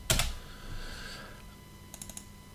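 Typing a folder name on a computer keyboard: a quick burst of loud key presses at the start, then quiet room tone, and a short cluster of lighter clicks near the end.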